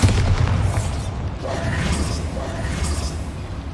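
A Bombarda spell blast in the Hogwarts Legacy video game, a loud booming burst that rumbles and crackles with debris for several seconds.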